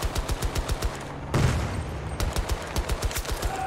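Rapid Glock pistol gunfire in Battlefield 2042, a steady burst of sharp shots broken by a brief louder blast in the middle, then more regular quick shots, with no talking.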